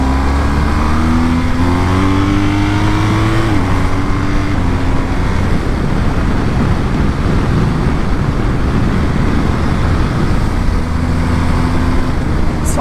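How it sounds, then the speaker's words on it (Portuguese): A BMW R 1250 GS motorcycle accelerates hard, its engine note climbing through the revs and then holding a steady, loud roar close by, with no talk. "dá aquela esticadinha com a nossa R1250GS"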